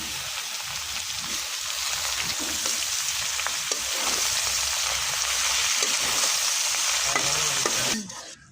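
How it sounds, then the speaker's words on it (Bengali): Mustard greens frying in oil in a pan, a dense continuous sizzle with the scrape and clatter of stirring, close and steady for most of the time before cutting off abruptly near the end; no talking. "এই তো আমার সর্ষের শাক ভাজা হয়ে গেছে"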